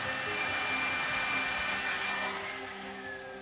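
Edge sander belt running steadily while sanding a jig for flattening epoxy feet, giving a continuous loud whirring drone that eases slightly near the end, with no voices.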